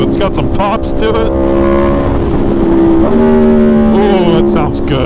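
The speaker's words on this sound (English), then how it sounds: "Ooh, it's got some pops to it." An Aprilia motorcycle engine revs loud and close, its steady harmonic drone rising and falling, with sharp crackling exhaust pops bursting near the end.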